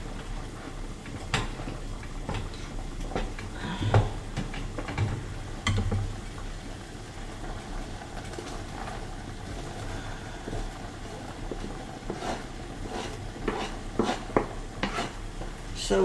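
Onions cook in a pan for lasagna, with a soft steady sizzle and scattered clinks and scrapes of a utensil stirring against the pan, fairly close and moderately quiet throughout.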